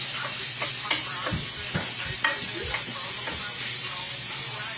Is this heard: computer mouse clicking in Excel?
no